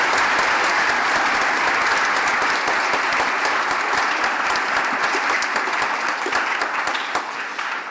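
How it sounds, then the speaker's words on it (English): Sustained audience applause at a senior art colloquium honouring student artists, a dense steady clapping from a full room that holds for the whole stretch and only begins to thin near the end. "Can we just get another round of applause for the artists?"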